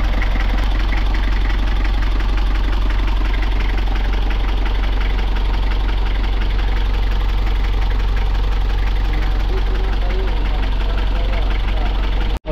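Nissan Urvan diesel engine idling as it warms up, a steady loud low rumble with rhythmic knocking clatter throughout, with voices talking over it before it cuts off at the end.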